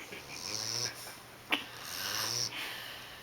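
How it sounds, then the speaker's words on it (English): A sleeping bulldog snores softly and close by in slow, rasping breaths, each inhale ending in a snort, with a sharp click partway through. "Monty, you were snoring"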